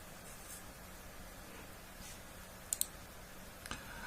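Computer mouse clicking, a couple of sharp close clicks followed by a fainter pair over low background hiss.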